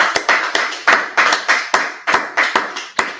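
A group claps in unison at a class gathering, about a dozen sharp, regular beats in a steady rhythm, loud and close with no voices.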